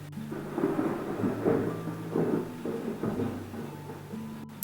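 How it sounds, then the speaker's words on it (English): Heavy rain pours steadily with deep rumbles of thunder rolling underneath, a dense, continuous storm roar with no voices. "It's actually storming pretty bad outside."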